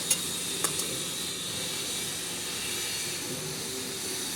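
Chopped cabbage tossed into a hot pan with onion and tomato for kobichi bhaji, a steady broadband sizzle and steam hiss running throughout, with a couple of brief utensil clinks near the start.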